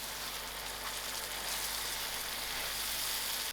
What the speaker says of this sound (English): I'll give these tomatoes about 15 minutes to cook out